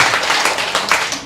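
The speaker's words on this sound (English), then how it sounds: "You can applaud that." An audience at a public talk applauds, a dense, steady burst of many hands clapping that fills the room, loud and close, with no voices over it.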